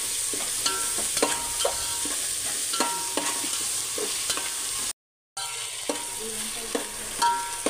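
Ginger-garlic paste fries in a pan for red dal khichdi with a steady sizzle, and a spoon scrapes and taps as it is stirred; the sound briefly drops out midway.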